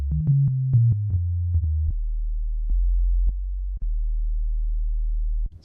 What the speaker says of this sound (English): the sine wave out of the sampler in Logic is great.